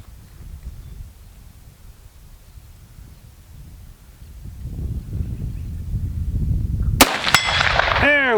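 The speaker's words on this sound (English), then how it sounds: "so I'm gonna raise up this Model 21 sight just slightly, and let's see where it shoots now" Single sharp crack from a Winchester rifle fitted with a Model 21 sight, fired at an outdoor range, loud and close near the end with a short ringing echo, preceded by steady wind and rustling.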